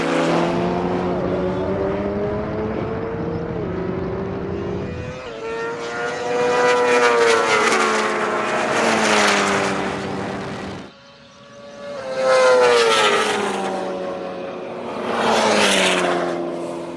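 Drag race between a 2019 BMW S1000RR motorbike, a McLaren 720S and an Ariel Atom 4: loud, high-revving engines rising through gears in sweeping pitch climbs, a brief lull, then another roaring full-throttle run up close.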